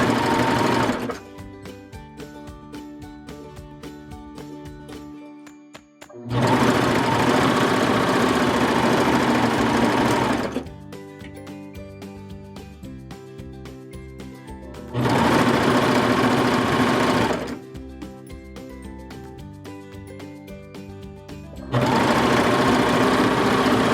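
A serger sews piping in several loud, fast, buzzing runs, each lasting a few seconds, separated by quieter pauses where the machine is stopped.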